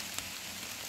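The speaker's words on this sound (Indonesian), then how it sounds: "Hujan emang deras lagi." Heavy rain pours onto a mountain hiking trail, a continuous broad hiss with a few sharper drop impacts, steady and fairly faint, with no voices.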